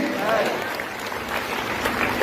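An audience claps steadily at a direct selling meeting for about two seconds, with a speaker's voice running over the applause.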